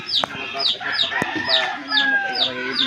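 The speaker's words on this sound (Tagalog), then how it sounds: "Ang inahin pa nga pala." Hens and a rooster cluck repeatedly close by in a rural yard, with short rhythmic calls and a brief crow-like note rising over low background activity.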